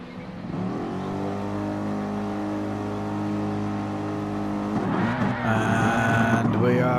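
Race cars in a racing video game surge off the line at the start of a race, engines droning in a steady whine that climbs into a louder, busier burst of revving near the end. The sound is heard alone, without talk.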